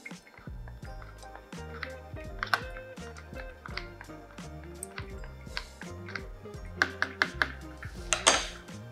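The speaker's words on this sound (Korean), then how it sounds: "스푼이나 이런 스틱 같은 걸 갖고 저어 주실 건데" A spoon stirs coffee grounds inside a Trinity Zero brewer fitted with a Z-pod, giving soft, busy clinks and scrapes with small liquid sloshes, growing louder and sharper near the end.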